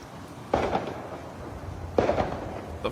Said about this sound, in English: Oh, it's fireworks.